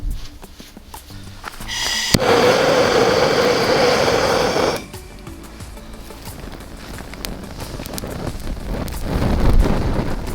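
Strong wind at a campsite on Devils Knob in the Ozark National Forest buffets the microphone in a loud, roaring burst for a few seconds, then continues as a steadier rushing gust.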